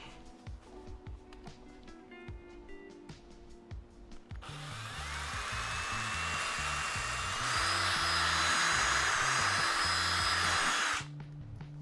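A power drill drilling wood whines steadily for several seconds after some clattering handling noises, rising in pitch partway through before cutting off abruptly.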